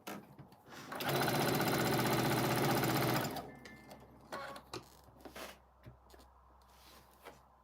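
A sewing machine stitches a quilt block in one continuous rapid run of about two seconds, close and clear, followed by quieter handling clicks and rustles.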